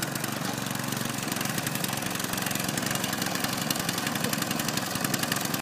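A Mini Cooper F56 running on its stock exhaust, a steady, fairly loud buzzing engine note held at an even level for several seconds with no clear rise or fall in revs.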